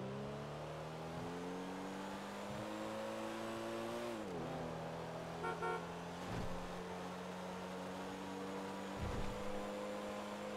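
Car racing at speed in GTA 5, a steady droning engine whose pitch climbs, dips sharply after a gear change, then holds, with a few thuds along the way, moderately quiet and without voices.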